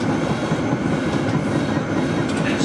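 An A Class tram rolls past on the St Kilda light rail line in Melbourne, a steady loud rumble with rail clatter and faint wheel squeal throughout.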